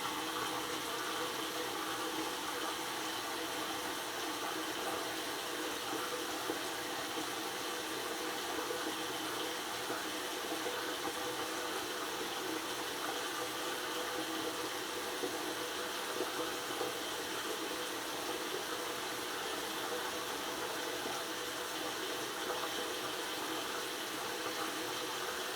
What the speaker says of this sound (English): I've got the water on as hot as it'll go, and it's still coming out like ice water.